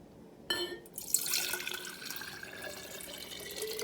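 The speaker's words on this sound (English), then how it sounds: "The first step in the science experiment would be to add our water." Water splashes into a container with a sudden onset, then settles into a steady, close pouring and trickling sound that continues to the end.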